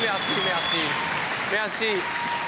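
A theatre audience applauds in a steady wash of clapping while someone talks over it, the crowd noise filling the whole moment at fairly high volume.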